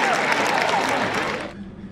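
A horse show crowd applauds eight hitched Clydesdales with dense, sustained clapping that fills the space, then tapers off near the end.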